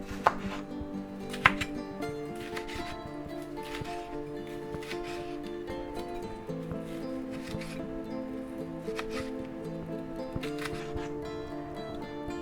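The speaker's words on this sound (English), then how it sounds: "We'll go ahead and slice that up thin like we did the red one." A knife slicing a vegetable thin for an egg, ham and cheddar sub sandwich: a rapid series of quiet, evenly spaced cuts against a board, faint under steady tonal background music.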